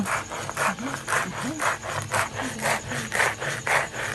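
Sorghum grain is ground by hand on a traditional stone grinding slab in a village, making rhythmic scraping rubs about two per second, close and steady.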